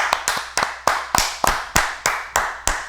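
A small group claps at an informal celebration among friends: about ten sharp, separate claps in a loose, fairly even rhythm, close and crisp, with no talking between them.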